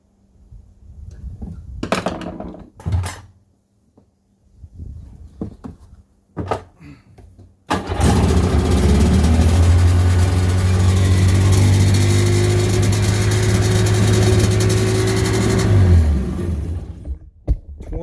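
A 1996 Sea-Doo GTI jet ski engine turns over in a few short bursts, then fires at about eight seconds and runs loud and steady up close before cutting back near the end.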